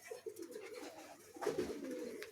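A breeding pair of pigeons coos close by in low, throaty, rolling calls that run continuously without pause, with no talk over them.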